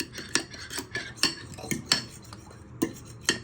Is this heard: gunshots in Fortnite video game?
no